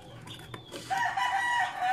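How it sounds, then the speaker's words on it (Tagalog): A rooster crows loudly and close in a rural Philippine yard, one drawn-out call following brief clucking and background noise from the chickens. "pasensya na mga ka-DIY sa ating backgrounds, maraming manok talaga dito sa amin"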